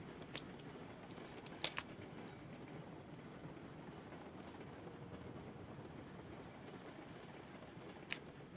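Steam train rolls along rails in the video game Railroads Online, a faint steady rumble with occasional sharp clicks from the wheels.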